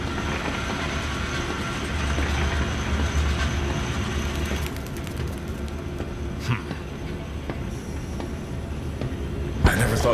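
A moving train in the zoo horror game Zoochosis rumbles steadily and close, with a low continuous drone, faint rail clatter and a few sharp metallic clicks near the end.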